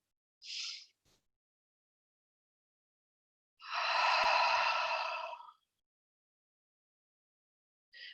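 Deep breathing during a yoga floor session, with a short breath near the start, one long, slow exhale in the middle, and a brief breath at the end, close and clear against silence.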